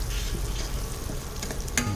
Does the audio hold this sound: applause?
no